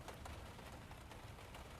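Steady rain falls in a soft, continuous patter, fairly faint and even throughout, with no voices.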